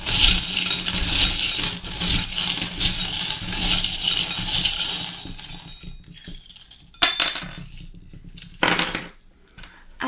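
Small metal charms used for a divination reading shaken together in a steady jingling clatter, then dropped in a few sharp clinks that ring out briefly near the microphone, with no talk.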